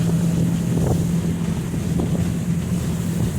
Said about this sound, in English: I definitely want to show the engine running at under throttle